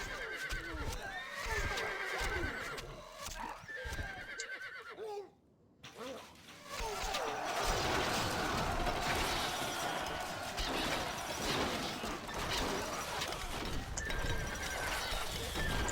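Horse archers in the Stronghold Crusader strategy game neigh and whinny over galloping hoofbeats and battle clatter, loud and dense, with a brief dropout midway before the charge resumes.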